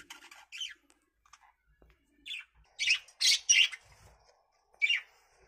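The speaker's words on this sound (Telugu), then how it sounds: "ఇదండి మన కాలనీ, మన బర్డ్స్ అండి, మన బడ్జీస్, లవ్ బర్డ్స్." Pet budgies (lovebirds) in a home colony cage give bursts of high chirps and short squawks, some overlapping and some spaced, with brief quiet gaps between calls and no talking.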